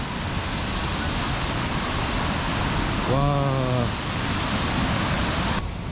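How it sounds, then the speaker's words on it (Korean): A waterfall in a New Zealand forest gives a steady, dense broadband roar that fills the whole clip, and a man's brief exclamation rises over it midway. "갑자기 나옵니다 폭포가 와 이것도 규모가 죽여주는데"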